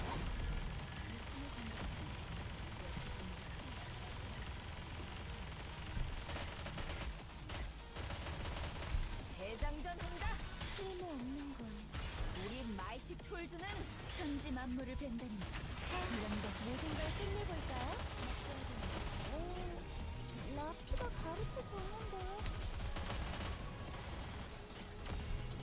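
Steady, dense gunfire from shooting in the video game Nikke, a solo raid battle, rattling on throughout under excited talk.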